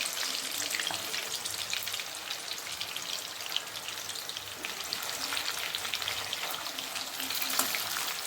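Chicken wings coated in rice flour fry steadily in hot oil with a dense, crackling sizzle and scattered pops, close and continuous throughout.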